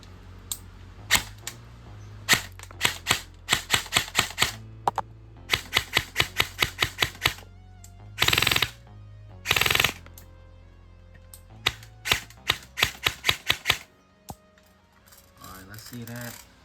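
Stag 15 airsoft gun firing repeated single shots in quick bursts, sharp mechanical clacks in rapid rhythmic volleys with a couple of longer hissing bursts midway, close and loud.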